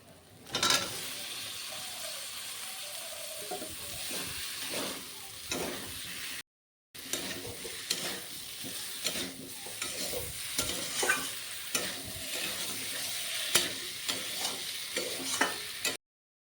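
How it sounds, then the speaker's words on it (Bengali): Fried cauliflower and potato tossed into sizzling spice masala in a pan, with constant close frying crackle and repeated spoon scrapes as it is stirred, briefly interrupted by a short cut, no voices. "এখন ভাজা ফুলকপি আলু আমি দিয়ে দেব"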